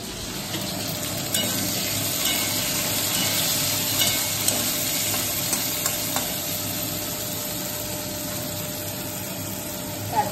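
Noodles for chow mein are stir-fried in a pan in a home kitchen, with a steady moderate sizzle, occasional spatula scrapes and clinks, and a faint background hum.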